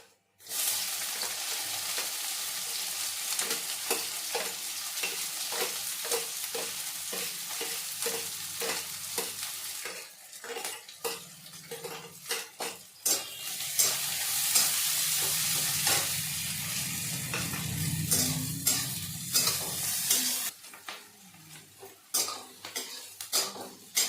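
Onion frying in a pan with cumin seeds and asafoetida, a steady close sizzle broken by repeated scrapes and clinks of a spoon stirring against the metal, with a louder burst of hissing midway.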